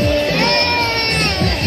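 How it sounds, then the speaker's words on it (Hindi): Dense crowd noise at a busy Uttar Pradesh fair (mela), a loud continuous hubbub of many voices with shouts and children's cries close by. "अरे यार कितना भीड़ है इधर"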